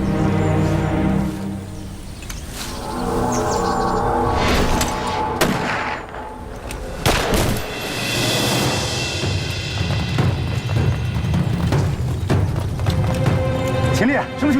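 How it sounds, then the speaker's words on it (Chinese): Gunfire in a Chinese TV drama scene, with loud shots and deep booms in bursts, mixed with tense voices talking throughout. "枪声。"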